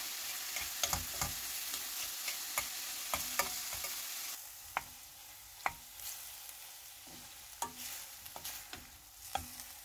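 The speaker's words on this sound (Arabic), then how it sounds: "ضفت 3 معالق زيت نباتي، وهلأ بضيف الدجاج بالتدريج" Chicken pieces fry in vegetable oil in a pan, a soft continuous sizzle punctuated by sharp clicks and knocks as pieces are dropped in and moved around, with no talk.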